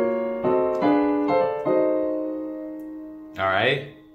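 Several piano chords in drop 2 voicings of a 2-5-1 progression are struck one after another with short gaps, each ringing briefly, followed by a short burst of sound at the end.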